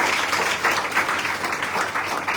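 An audience applauds at an evening spiritual discourse in Durban, South Africa, a short burst of steady, moderately loud clapping from a crowd.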